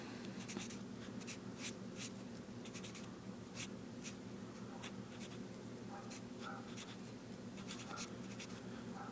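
Pen or marker writing out a calculus integral solution, a steady scratchy stroke texture with rapid short marks throughout, close and fairly quiet over a constant low background hum.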